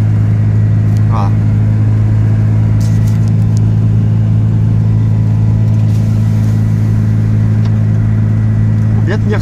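A white 2017 Ligier JS50L Élégance microcar with a DCI engine drives along a road. Its engine holds a loud, steady low drone from inside the cabin.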